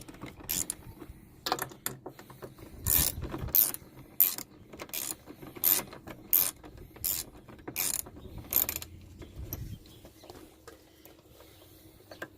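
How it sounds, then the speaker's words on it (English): Hand ratchet removing the door handle screws on a 2004 Chevrolet Silverado, heard as repeated short bursts of ratcheting clicks in uneven groups with brief pauses between, fairly close and alone without talk. "We're going to switch over to a ratchet because I ran out of juice on my screwdriver."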